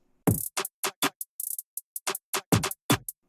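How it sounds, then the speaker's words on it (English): A sparse electronic drum pattern of crisp kicks, snappy hits and short hi-hat ticks repeats in a loose groove, dry and close with silence between hits. "added a basic drum pattern that sounds like this"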